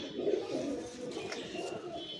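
Low, throaty cooing rises and falls from closed-tail fancy pigeons of Pakistani, Madrasi and Giribaz breeds, a soft steady murmur close at hand with a few faint higher chirps.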